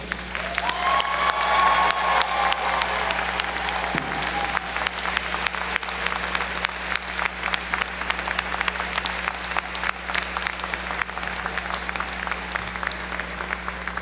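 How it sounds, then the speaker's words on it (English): A graduation convocation audience gives a long, sustained burst of applause, dense crowd clapping filling the hall steadily for about fourteen seconds, with a faint tone and murmur underneath. "Now it's your opportunity to say thank you with a thunderous applause."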